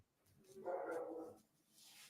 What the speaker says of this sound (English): Oh, you can hear my dog?